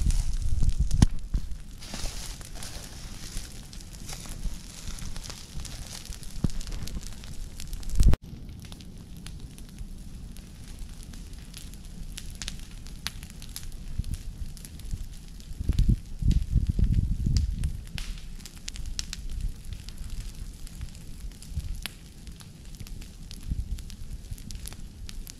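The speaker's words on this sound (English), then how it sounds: "We're just maintaining a good undergrowth cleanup fire at this point." Undergrowth burning in a controlled woodland fire, a steady close crackle and hiss with scattered pops and snaps, one sharp crack partway through, and some rustling movement nearby.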